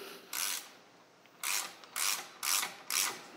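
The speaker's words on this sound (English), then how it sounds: "I'm just holding on to the head of the ratchet." Ratchet wrench clicking while turning on the inner input shaft of a John Deere 710, five short bursts of rapid ratcheting at close range with brief pauses between them, no talking.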